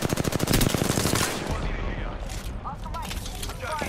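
Rapid automatic gunfire in Apex Legends rattles out in a fast, steady burst, then gives way to scattered, lighter shots and game chatter in the background.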